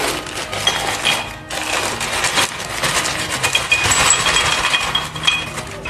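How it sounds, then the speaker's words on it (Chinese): Crystal stones, a mix of citrine and clear quartz, poured out of a box, giving a continuous bright clinking and rattling cascade with scattered sharp chinks, fairly close and loud. "拆开了，看一下这个晶石，把它倒出来"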